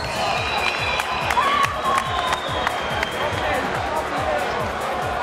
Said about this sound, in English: give him a big and warm applause